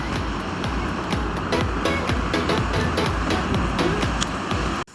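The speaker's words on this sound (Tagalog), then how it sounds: "Sobrang nakaka-relax yung tunog ng alon." A steady wash of ocean surf rolls on with a constant hiss, waves breaking in the background before the sound cuts off abruptly.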